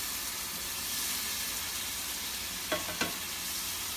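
Arroz con pollo with tomato sauce stirred in a hot pan, a steady bright sizzle punctuated by two quick scraping knocks of a utensil near the end, close and even, no talking.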